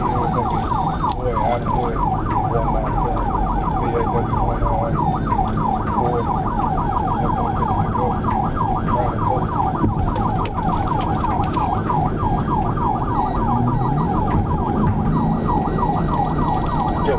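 Police car siren wailing continuously through a high-speed pursuit, a rapid, repeating up-and-down yelp that stays loud and close throughout over road and engine noise.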